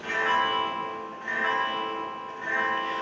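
A guitar chord rings out three times in close succession, each strum sustaining and fading with a touch of reverb, played alone and near.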